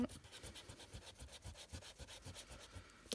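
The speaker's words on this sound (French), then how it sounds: "Je vais gommer mes traces." A rubber eraser rubs pencil marks off paper in quick back-and-forth strokes, a faint, steady scratchy rhythm heard close up with no talking.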